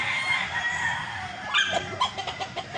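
A two-year-old gray gamecock rooster crows in a rising, strained call, followed by a few short clucking bursts, close and fairly loud outdoors with no one speaking.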